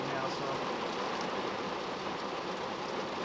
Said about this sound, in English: the rain is just absolutely blinding right now